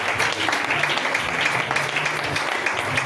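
A church congregation gathered for a sermon claps together to acclaim the Lord, a dense, steady wash of applause lasting throughout at moderate loudness, with faint voices mixed underneath.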